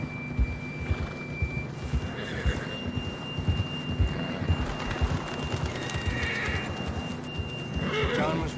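A horse in the Red Dead Redemption 2 game whinnies amid clip-clopping hooves and a low in-game hum, with a rising neigh near the end and voices talking intermittently through the scene.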